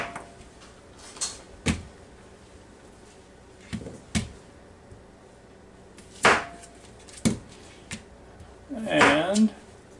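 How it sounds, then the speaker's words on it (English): A knife cuts the ends off a zucchini on a board, making sharp, isolated knocks spaced a second or two apart, a few of them louder and closer. "Now we'll cut the ends off the zucchini."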